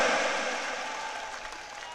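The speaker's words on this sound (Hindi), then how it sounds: "आप जोरदार तालियां बजाकर स्वागत करें" An audience at a Rajasthani political gathering applauds to welcome a speaker. Dense clapping starts loud and fades gradually over two seconds.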